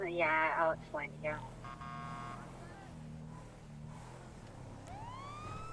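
Police car siren in a video game, a rising electronic wail near the end, preceded by louder game engine and crash noises; fairly faint overall, heard without clear speech over it.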